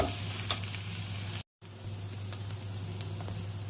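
Onions fry in oil for a chicken curry and are stirred in the pan, making a steady close sizzle with light scraping, briefly cut to silence partway through.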